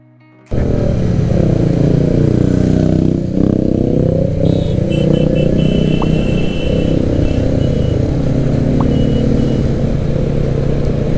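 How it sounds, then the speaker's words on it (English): A Royal Enfield Meteor 350 motorcycle engine runs close by with a deep, throbbing exhaust note, holding a steady idle with slight revs throughout. "The exhaust note, while listening to that now I got reminded about the exhaust note."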